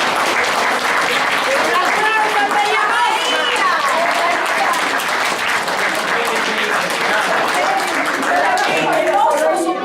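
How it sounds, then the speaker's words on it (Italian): Audience applause follows a closing call at an Italian amateur stage performance, a dense, steady wash of clapping lasting the whole stretch, loud and close, with voices and some cheering mixed in. "Un applauso."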